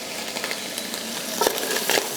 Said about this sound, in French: Voilà que je vais faire un petit peu torréfier dans le fond de ma casserole.